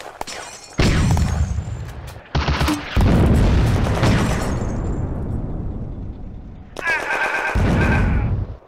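Mortar shell blast destroying a 3.7cm PAK-36 anti-tank gun in a June 1940 wargame battle, heard as loud booming explosions and bursts of gunfire that come in several waves, with a long rumbling decay between them.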